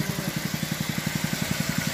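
An old Honda GX120 small engine runs at a steady idle, its quick even chugging pulses repeating evenly, close and fairly loud with no talking.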